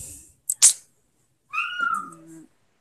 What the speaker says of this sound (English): I hear kittens.